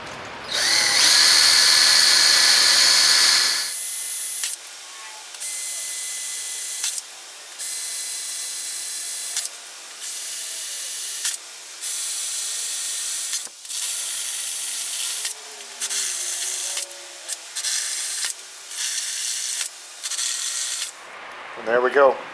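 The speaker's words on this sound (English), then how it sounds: "We'll go ahead and make a little pilot hole, drill those out a little bit bigger, big enough to fit the screws" A power drill bores pilot holes through an aluminum fan shroud for a 1977 Chevy C10 cooling system, starting with one long whine and then giving many short, close, loud bursts with brief pauses between them.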